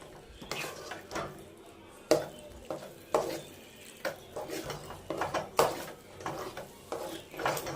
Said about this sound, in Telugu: ఇలా కలుపుతూనే ఉండాలి గట్టి పడేంత వరకు.